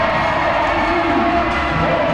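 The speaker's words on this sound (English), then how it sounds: "And the crowd loves her." A wrestling crowd cheers in a steady, loud roar of many voices, sustained across the short span with no break.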